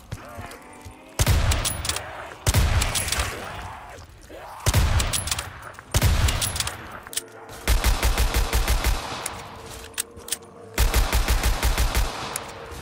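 Pistol fire in Call of Duty Black Ops 3 Zombies on a Minecraft-style Verrückt map, loud close shots in repeated bursts and rapid volleys separated by short pauses, with game noise between.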